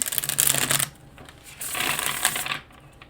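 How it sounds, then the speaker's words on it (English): A deck of cards is riffle-shuffled in two quick crackling bursts, close and crisp, separated by a brief pause. "One more shuffle here."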